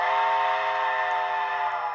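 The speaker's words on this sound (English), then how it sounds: "whistle, I chose a really weird one." Steam whistle from a Proto 2000 USRA 0-8-0 model locomotive, a single sustained, steady whistle tone held for about two seconds, close and fairly loud with no talk.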